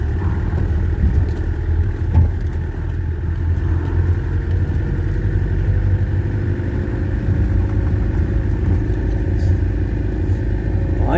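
A Peugeot 404 diesel car crawls along in first gear, its engine giving a steady low, rough drone with a constant rumbling rhythm and no break for the whole stretch.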